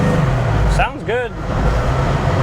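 A 1970 Chevy Nova with a fuel-injected LT1 engine and 4L60E transmission pulls uphill, a steady low engine drone inside the car while a voice speaks briefly over it.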